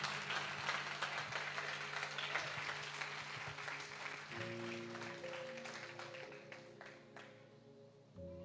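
A church congregation claps steadily throughout, broadband and sustained, with sustained organ or keyboard tones underneath that shift partway through.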